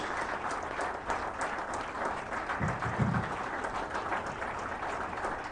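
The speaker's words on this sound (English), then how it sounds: "Let's keep clapping until he gets to the stage." Steady applause from a conference audience at the Middle Belt Save Nigeria Conference, sustained and even throughout as a guest walks to the stage, with a few louder claps mid-way.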